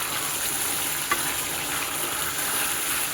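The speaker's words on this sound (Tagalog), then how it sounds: "Yan, nagigisa na." Bicol Express sautéing in an uncovered pan, a steady close hiss and sizzle with a faint clink partway through and no talking.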